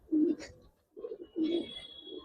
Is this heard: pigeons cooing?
yes